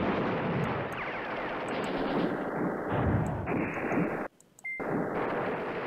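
Artillery bombards firing in the wargame Command Ops 2, a dense continuous roar of rumbling booms and crackling blasts throughout, with a brief near-silent gap near the end.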